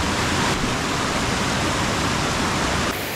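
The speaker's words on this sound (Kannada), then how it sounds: "ನೇತ್ರಾವತಿ ನದಿ ಈ ಕಡೆಯಿಂದನೂ ಬರ್ತಾ ಇದೆ, ಮೇಲ್ಗಡೆಯಿಂದನೂ ಬರ್ತಾ ಇದೆ, ಎರಡೂ ಸೇರಿ ಇಲ್ಲಿ ಹರ್ಕೊಂಡು ಹೋಗ್ತಾ ಇದೆ" The Netravati river flows where two streams meet, giving a dense, continuous rush of moving water close by, steady and unbroken with no voices.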